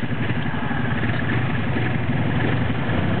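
Car engine running steadily while the car sits stuck, a close, loud, rough low rumble that holds constant with no clear revving changes and no voices.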